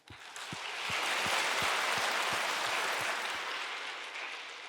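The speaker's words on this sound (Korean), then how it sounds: "하나님 앞에 영광의 박수" Church congregation applause at a Sunday service, a broad dense wash of clapping that swells and holds steady, with a faint regular low thumping beneath it.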